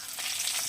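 Sliced onion sizzling in hot oil in a home kitchen pan, a steady close crackling hiss throughout this brief moment, with no voices.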